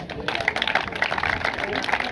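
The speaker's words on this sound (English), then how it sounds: "Clap for her." Outdoor clapping from an audience at a school scouts camp celebration, a rhythmic patter of many hands with voices mixed in, fairly loud and close.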